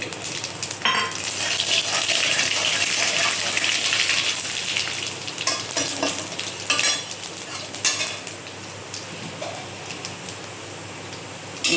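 Panch phoron spices crackle and sizzle loudly in hot oil in a kadai for mango pickle, a dense hissing wash with scattered pops and occasional stirring scrapes that eases slightly toward the end.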